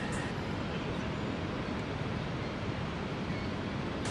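Roar of Niagara Falls on the Niagara River, a dense, continuous broadband rush of falling water, steady and loud with no breaks or voices.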